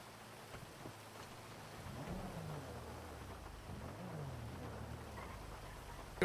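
Steady rain and rolling thunder in a Grand Theft Auto roleplay game world, a continuous downpour with low rumbles swelling around the middle, no voices.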